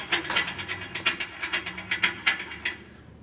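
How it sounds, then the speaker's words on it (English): A nut is run along the threaded rod of a conveyor chain tensioning plate, making a quick series of about a dozen close, crisp metallic clicks and ratchet-like ticks that fade at the end. "we take our nut, we run our nut all the way to the end of this plate"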